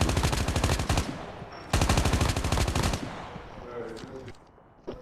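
Two long bursts of rapid automatic fire from an AK117 rifle in the mobile shooter Call of Duty Mobile, each lasting about a second, followed by quieter game sounds and a faint shot near the end.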